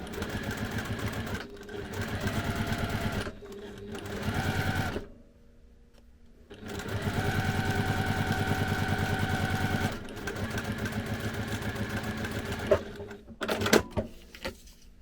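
A sewing machine stitches a case flap in several rapid, rattling bursts of varying length, separated by short pauses, with no talking over it.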